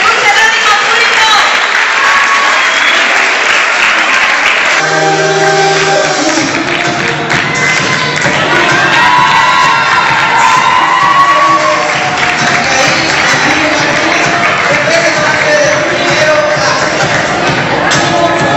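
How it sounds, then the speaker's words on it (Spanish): A pageant audience applauds and cheers as eleven young women contestants come out to present themselves, a loud, dense crowd sound running steadily throughout, with voices and whoops mixed in. "Recibimos a las 11 señoritas con un fuerte aplauso para que hagan su presentación"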